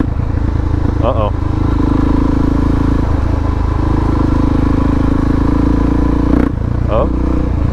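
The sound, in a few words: motorcycle engine running during ride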